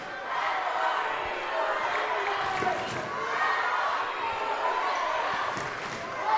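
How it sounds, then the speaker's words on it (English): Ravens fans in a high school gym during a varsity boys basketball game between Los Lunas and Rio Grande, a steady roar of crowd noise with shouting and faint ball bounces throughout. "Ravens fans making some noise."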